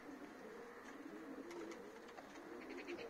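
Breeding homing pigeons sit in a new loft, giving soft repeated coos with faint rustling and fluttering, fairly near and quiet, with no talking.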